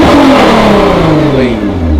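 Nissan GT-R with a new exhaust revving up loud and close, one rising then falling engine sweep with a strong throaty tone.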